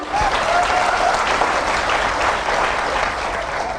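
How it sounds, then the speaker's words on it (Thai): Steady, dense crowd applause from a Thai audience cheering on people in debt, loud and continuous across the whole stretch with no talk over it. "ขอเสียงปรบมือเป็นกำลังใจให้คนเป็นหนี้หน่อยนะคะ"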